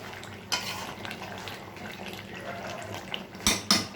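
Chicken is sautéed with spices in a pan, a low sizzle broken by scraping stirs and a couple of sharp metallic clatters near the end, heard up close with no voices.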